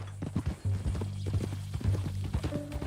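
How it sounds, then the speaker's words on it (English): Horse hooves clip-clop in a steady, uneven rhythm in Red Dead Redemption 2, fairly close and clear over a low droning music bed, with no talking. "That a new horse?"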